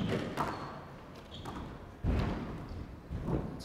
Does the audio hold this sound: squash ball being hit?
yes